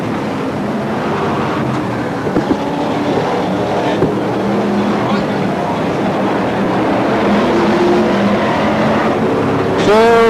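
BriSCA F1 stock cars race around the Northampton oval, a dense continuous roar of several engines blending into a loud, steady wash with brief rises as cars pass, and a faint voice briefly audible beneath.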